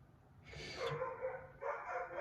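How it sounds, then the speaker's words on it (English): A pet dog indoors lets out two faint, drawn-out yelping barks in the background, distant and quiet, with no speech over them. "Sorry about that in the background. It's my dog."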